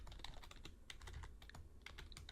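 Java code being typed on a computer keyboard, a quiet close run of quick, uneven key clicks with short pauses.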